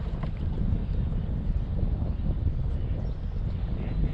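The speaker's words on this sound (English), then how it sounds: "the wind really picked up this morning, as I expected it would" Steady wind buffeting a microphone out on the Connecticut River during a kayak fishing trip for bass and pike, a loud continuous low rumble with no pauses and no talk.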